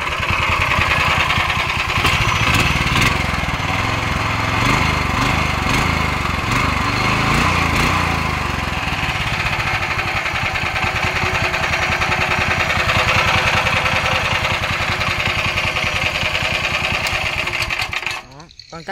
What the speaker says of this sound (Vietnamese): để con test cho chú nghe tiếng máy ha